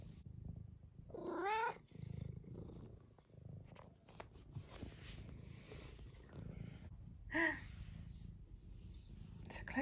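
A cat purrs close by in a soft, low rumble that keeps going, while a person talks over it now and then.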